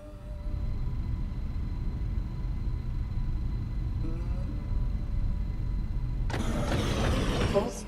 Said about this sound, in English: Engines at maximum.